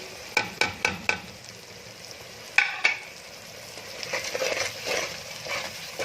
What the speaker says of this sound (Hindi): और तकरीबन 10 सेकेंड तक ऐसे ही मसाले की भुनाई करेंगे।